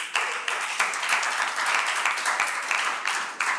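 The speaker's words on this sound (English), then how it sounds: "can you please just go ahead and give yourselves a resounding round of applause?" A conference audience at a school debate event breaks into a loud, sustained round of applause, a dense wash of many hands clapping that stays strong throughout with no talking over it.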